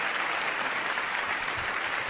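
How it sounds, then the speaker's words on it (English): Podcast audience applause, an even, continuous patter of many hands clapping at steady volume for about two seconds, with no voices over it. "look at all that applause that you're getting"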